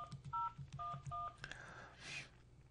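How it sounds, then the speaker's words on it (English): Telephone keypad tones dialing into a webinar call line: a quick series of about four short, clean DTMF beeps with brief gaps, close and clear, followed by faint background noise. "Can't talk and dial at the same time."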